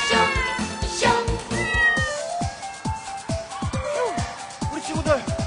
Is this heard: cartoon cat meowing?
yes